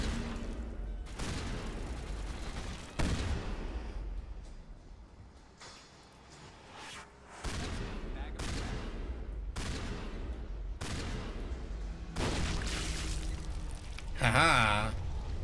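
Shotgun blasts in the video game Mass Effect come as a series of heavy booming shots a second or two apart over a continuous rumbling game soundtrack, with someone talking at times.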